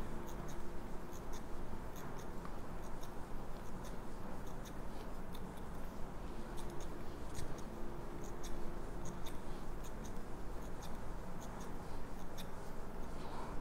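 Thinning scissors snip through hair in a haircut, giving a quick, regular series of soft, close metallic clicks over a faint steady background hiss.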